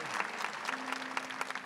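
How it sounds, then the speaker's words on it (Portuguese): Audience applause for a golden wedding anniversary couple at a sanctuary during a prayer service, a steady patter of many hands clapping at moderate distance, with a faint tone running beneath. "vamos aplaudir"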